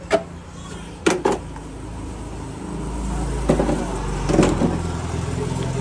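A tempo goods truck pulls up to load household belongings for a move, its low engine rumble swelling from the middle onward after a few sharp clunks near the start, with faint background voices.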